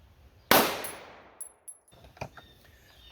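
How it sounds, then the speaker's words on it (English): A single sharp shot rings out from a Smith & Wesson M&P Shield handgun firing 230 grain FMJ ammunition, with a loud near crack that decays quickly, followed by faint clinks and small knocks. "Shooting 230 grain FMJ."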